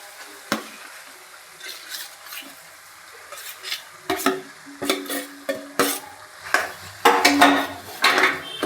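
A mash of potato with cooked onion and tomato is stirred in a pan, giving soft scraping and sticky squelching strokes with occasional clinks of a spoon against metal, building louder and busier toward the end, with no talking.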